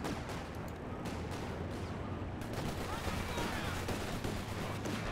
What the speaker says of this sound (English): Oh, we have artillery coming down.